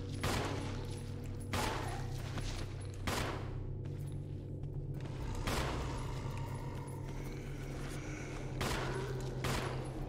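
Gunfire in the GameCube Resident Evil, a series of sharp, loud shots spaced about a second or two apart over a steady low background hum.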